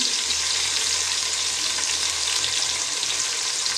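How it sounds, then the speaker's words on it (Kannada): Tomatoes frying in a pan with ginger for a Mangalore-style chicken curry, giving a steady, dense sizzle that runs unbroken and fairly close throughout, with no voices. "ಅದನ್ನು ಚೆನ್ನಾಗಿ ಫ್ರೈ ಮಾಡೋಣ ಈಗ ಒಂದು ಕಟ್ ಒಂದು ಕಟ್ ಮಾಡಿಟ್ಟ ಟೊಮೆಟೊ ಹಾಕ್ತಿದ್ದೇನೆ"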